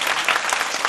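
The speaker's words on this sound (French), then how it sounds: "On applaudit très très fort" Audience applause at a children's television show, steady dense clapping filling the whole moment without any talk over it.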